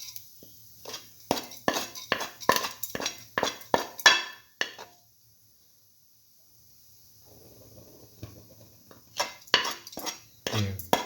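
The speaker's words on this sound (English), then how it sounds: "Here, taking roasted vermicelli pasta. Saute heavily." Roasted vermicelli pasta is sautéed in a pan for a mung bean and coconut milk soup: a utensil scrapes and clinks busily against the pan, pauses, then resumes the clattering stirring.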